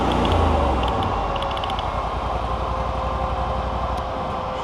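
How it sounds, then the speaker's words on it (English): A Fuelwood Splitta 400 log splitter with a Honda engine runs steadily close by, its low mechanical drone holding even and loud, with a slight easing in level through the clip as the throttle comes down. "I'm going to stop the Splitta, and I'm going to throttle this down."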